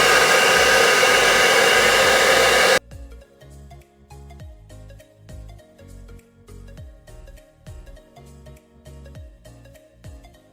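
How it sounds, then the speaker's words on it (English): A hair dryer roars on its highest speed setting for a few seconds as a steady, loud blast of air, then cuts off abruptly and gives way to quiet background music. "I'm gonna put your hairdryer on the highest speed and just watch"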